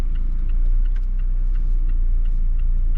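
Low rumbling engine of a 2021 Mazda MX-5 Miata pulling away in first gear with a manual stick shift, a steady close drone heard from inside the car.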